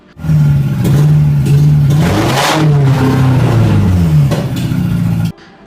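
A Honda CR-V engine revs up and down several times, a loud, close droning rise and fall before cutting off abruptly.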